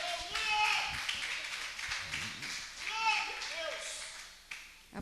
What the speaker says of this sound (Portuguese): Em nome de Jesus, aplauda o Senhor mais uma vez.